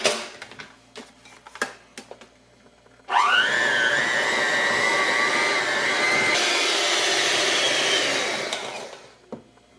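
An electric mixer whirs steadily for several seconds, blending fruit pizza topping with vanilla extract, after a few clinks and knocks, then winds down to silence.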